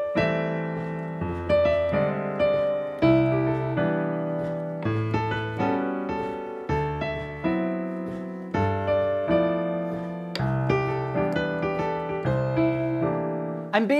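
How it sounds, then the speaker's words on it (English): Jazz piano played solo with rootless voicings, a series of rich chords struck one after another in a relaxed rhythm, each ringing out and decaying before the next, clear and close with no talking. "rootless voicings sound like this"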